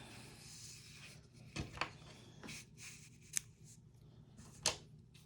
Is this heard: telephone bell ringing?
no